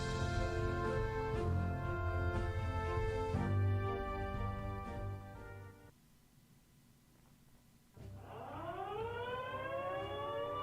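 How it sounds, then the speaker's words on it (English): Wailing air-raid sirens from the Strategic Command WWII strategy game, several rising and falling tones sounding loud and sustained, dropping briefly to near quiet before a fresh siren swells up again. "Gotta love the bombing raid sirens."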